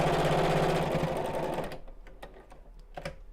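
Sewing machine stitching a biscornu pouch, a close steady mechanical whir that stops partway through, leaving a few soft clicks and handling sounds.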